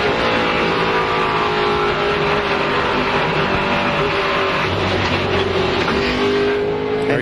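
Onboard sound from the 49 NASCAR race car, a loud, sustained engine roar at high revs with a continuous mechanical drone and slight pitch shifts, running steadily throughout.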